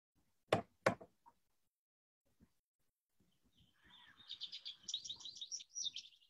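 A backyard songbird calls in a quick series of high, rapid chirps in the second half. Two sharp knocks come first, and the calls sound moderately close but faint.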